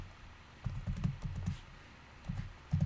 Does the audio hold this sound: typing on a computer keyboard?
yes